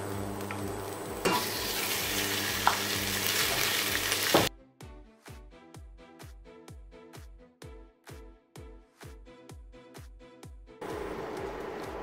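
Beef for a stew goes into a hot pot and fries with a loud, steady sizzle, then the sizzle drops away to a series of rhythmic stirring scrapes before it swells again near the end.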